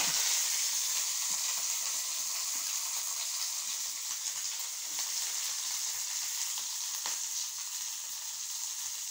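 Onions and green chillies with urad dal frying in hot oil, a continuous bright hiss of sizzling at moderate volume with occasional stirring scrapes and no talking.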